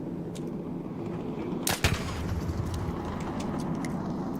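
Explosions rumble in the video game Arc Raiders, a low continuous roar with one sharp loud blast in the middle and scattered lighter cracks and pops around it.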